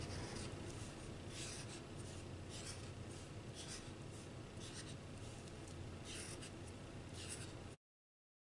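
Colored pencil or crayon scribbling across paper to fill in a drawing's background, a soft, continuous rhythmic scratching of repeated strokes heard faintly up close, no voices, stopping abruptly near the end.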